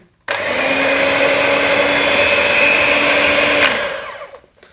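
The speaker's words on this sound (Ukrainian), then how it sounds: "Дуже тихий міксер. Є дуже гучні, цей дуже тихий." A Gorenje M500DCBK electric hand mixer switched on and running, a loud, steady motor whine with a constant tone that starts abruptly and then winds down to stop, alone without talk.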